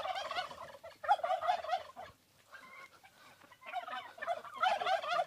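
Turkeys gobble in bursts during an outdoor hunt, loud and close, with a clear gap in the middle before the calls resume.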